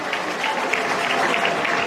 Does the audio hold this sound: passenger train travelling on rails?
no